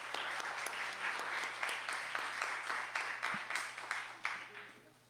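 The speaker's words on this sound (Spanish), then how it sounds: "Recibámoslo pues con un fuerte aplauso." An audience at a World Space Week round-table gives steady applause to welcome a deputy. It sounds like a crowd clapping together at moderate loudness, with a faint hum underneath, and fades slightly toward the end.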